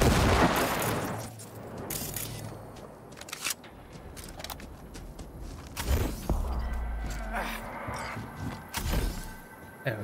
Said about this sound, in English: I'm shooting the cactus.